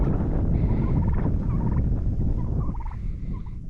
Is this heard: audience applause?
no